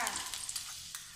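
Minced garlic fries in a pan as a sauce is started, a soft, close, steady sizzle with a few light stirring scrapes and no talking.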